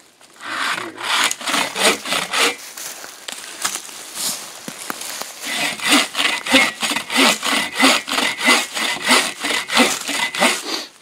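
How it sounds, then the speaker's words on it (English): A hand saw cuts through hard wood for a shelter build outdoors, with steady rhythmic back-and-forth rasping strokes, near and loud, quickening toward the end. "Oh, you can hear it too with the way the blade's cut."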